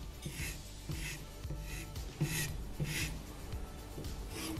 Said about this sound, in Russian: под тем же самым углом, как мы точили, начинаем полировку